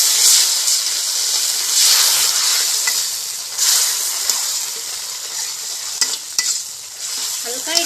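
Mustard paste sizzling and hissing in a hot pan, loud and close, with scraping stirs and a few sharp spits of oil over a continuous frying hiss.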